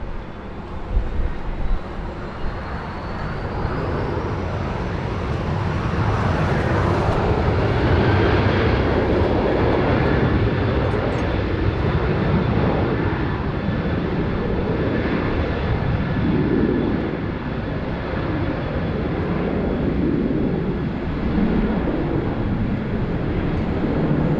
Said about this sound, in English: We have Velocity 874 heading down to Melbourne, ready to light it up on runway 16 right.